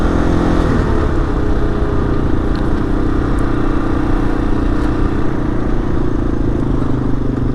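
A Yamaha XT225 motorcycle is ridden at a steady pace, its single-cylinder engine droning loud and close with constant wind rush and road noise, no talking.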